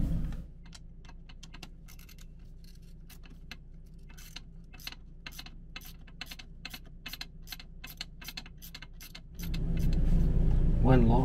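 Rapid metallic ratcheting of a socket wrench working bolts on an RV Dometic macerator, close and fairly quiet in repeated bursts, before a louder rush of noise and a brief voice near the end.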